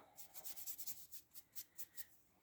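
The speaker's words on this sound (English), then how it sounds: "Going to get rid of those pencil marks." Pencil marks being erased from a paper page, a quick series of soft, dry rubbing strokes, about a dozen short scrubs in an uneven rhythm, close and quiet.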